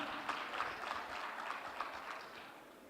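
Audience applause after a journalism talk event, a fairly quiet, steady wash of clapping from a hall crowd lasting the whole few seconds with no voices over it.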